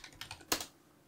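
A few quick keystrokes on a computer keyboard, a light cluster of taps followed by one sharper, louder press, close and with no talking.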